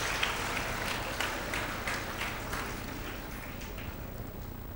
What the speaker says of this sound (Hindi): इसके लिए आप खुद के लिए एक बार ताली बजा लीजिए